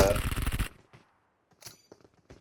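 Burst of rapid automatic gunfire from PUBG Mobile, loud and dense for under a second, then sparse, fainter shots and clicks with gaps of near silence between them.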